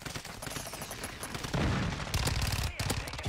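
Bursts of automatic gunfire in an online military shooter game crackle in rapid strings, dense and loud, with players' voices joining between volleys.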